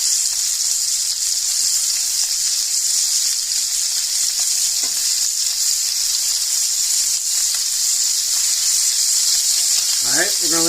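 Chicken pieces laid skin side down in a hot pan give off a loud, steady frying sizzle that holds for the whole stretch, with a few faint pan or utensil touches near the end.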